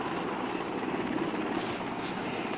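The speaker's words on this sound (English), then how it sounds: "Chopper coming in." A military helicopter approaches in a video game battlefield, its steady rotor chop and engine roar forming a dense, continuous wash that stays loud throughout.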